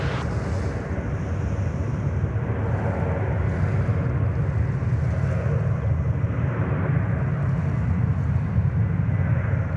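An Airbus A330 airliner takes off from a runway at Sydney Airport, making a steady, loud, broadband jet roar mixed with wind buffeting on the microphone. It runs continuously throughout with no voices.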